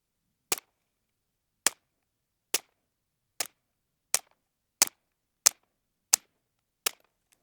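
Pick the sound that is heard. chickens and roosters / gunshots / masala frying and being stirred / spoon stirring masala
gunshots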